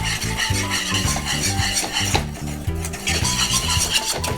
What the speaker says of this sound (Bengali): এটা প্রতিনিয়ত হুইস্ক দিয়ে একদম হুইস্ক দিয়ে নাড়তে হবে